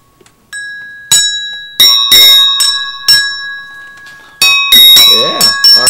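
Agogo bells from Brazil struck in a loose samba pattern, bright ringing metallic tones with long sustain, several strikes spaced across the passage, with people talking and reacting in between.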